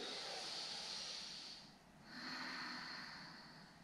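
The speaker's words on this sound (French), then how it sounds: "Et on respire. 3 profondes inspire, expire." Deep yoga breathing: a long, slow hissing inhale, a brief pause, then an extended airy exhale, close and soft, with no speech.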